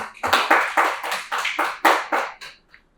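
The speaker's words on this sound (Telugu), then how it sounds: "గురువులందరికీ ఒకసారి గట్టి క్లాప్ చేద్దాం" A group claps loudly in unison, strong rhythmic claps at about three per second, repeated in steady bursts and then tapering off, at a meditation gathering honouring gurus.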